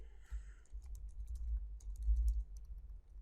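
Soft, fast clicks of typing on a computer keyboard, an irregular run of light taps close by and fairly quiet, with no talking over them.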